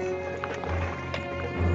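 Horses' hooves pound in a steady clip-clop gallop, with men riding them, a low rumbling bed of noise throughout and no voices.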